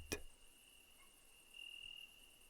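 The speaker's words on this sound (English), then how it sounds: "a symphony of crickets and the rustling of leaves in the gentle breeze" A faint, steady high-pitched cricket trill continues through a quiet night, with a soft click near the start.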